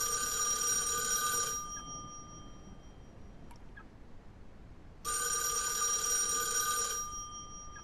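A telephone rings inside the horror game [REC] Paroxysm, two loud electronic ring bursts separated by a few seconds of near-silence with faint clicks, no voices over it.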